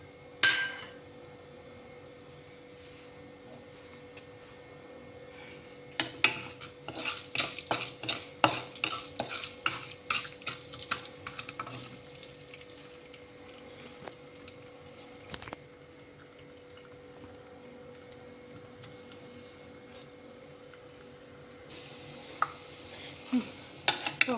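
Tempering spices, peanuts and dried red chillies frying in oil for temple-style pulihara, a steady close sizzle punctuated by repeated metal spoon stirs and scrapes against the pan, busiest in the middle.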